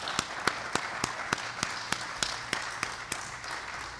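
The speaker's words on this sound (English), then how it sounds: "Let's have a big round of applause for our candidates" At a county candidate forum, the audience claps in an even rhythm: about fourteen sharp, evenly spaced claps over four seconds above a soft room hum.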